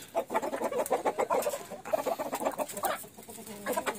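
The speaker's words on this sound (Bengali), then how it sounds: "সিল্কি মুরগি" Several silkie chickens cluck and chatter close by, a busy run of short, overlapping clucks with no talking.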